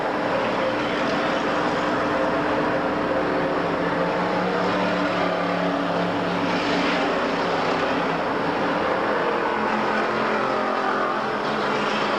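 A race car in an enduro race at a short track drones loudly past, its engine roar steady and sustained among other engines for the whole stretch, with no voices.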